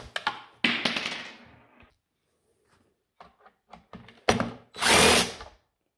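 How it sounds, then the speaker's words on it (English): A power driver spins out the side screws of a Dewalt DCN692 nailer in short bursts, with clicks and taps of handling between the whirring runs and one longer, louder final burst. "you have to screw off these screws on the side"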